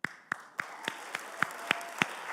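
At a labor rally, hands clap in slow, evenly spaced beats, each sharp clap about a quarter second apart, over a faint murmur of the gathered room.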